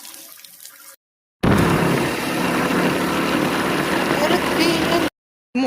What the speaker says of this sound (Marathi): मोटर चालू झाली बघा आता